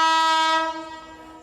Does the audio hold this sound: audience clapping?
no